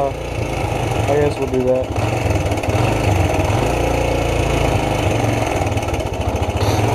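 A cold motorcycle engine idling roughly, a loud continuous uneven chug with pulsing low throb, close by throughout, while someone speaks briefly over it.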